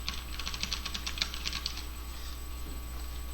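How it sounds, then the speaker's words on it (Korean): Fingers tapping on a computer keyboard during a basic keyboard-use lesson, a quick run of soft clicking keystrokes in the first two seconds, then quiet, with faint background hum. "키보드를 입력하시면 돼요."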